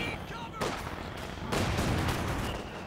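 Gunfire and machine-gun bursts from the World War II strategy game Company of Heroes 2 during a 4v4 match, dense rattling shots that swell louder partway through.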